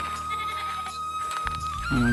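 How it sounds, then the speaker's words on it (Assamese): A goat tied up at a home farm bleats close and clearly, with a longer bleat rising at the end over a faint steady tone. "এইবিলাক এজনী ছাগলী বান্ধি থোৱা আছে।"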